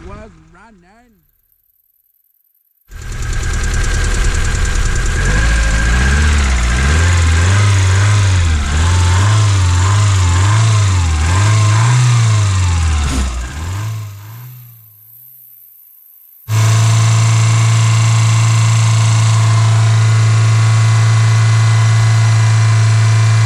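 A 2009 Hyundai Accent engine idles with a slight shake after a timing adjustment, running loud and close with a wavering, uneven tone. It cuts out briefly partway through, then resumes at a steady hum.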